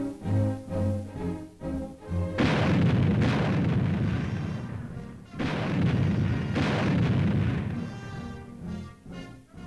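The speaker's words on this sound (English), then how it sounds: "The guns of this big brigade are ready to fire." A brigade of anti-aircraft artillery guns fires at a field fire mission. Heavy booming blasts roll and rumble loudly across a wide space in two long surges, with no voices.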